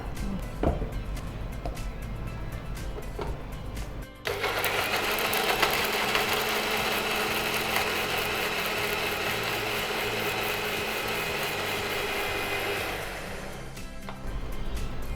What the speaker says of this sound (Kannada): ಇದಕ್ಕೆ ಸ್ವಲ್ಪ ನೀರು ಹಾಕಿ ಗ್ರೈಂಡ್ ಮಾಡಿ ನೋಡ್ಕೊಳ್ಳಿ.